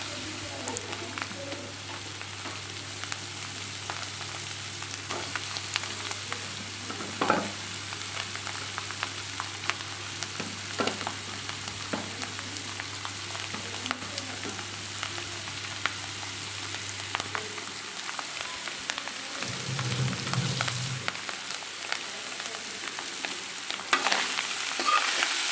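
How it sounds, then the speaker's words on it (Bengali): Small shrimp fry in oil with turmeric in a kadai, a long continuous close sizzle with scattered stirring clicks and a low hum that drops out partway through, no voices. "কুচো চিংড়িগুলোকে এর উপরে ছড়িয়ে দেব তেলের উপরে"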